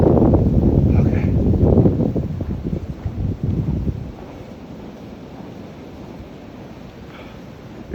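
Strong wind buffets the microphone during a blizzard in the White Mountains, loud rumbling gusts for the first few seconds that ease into a steadier, quieter roar.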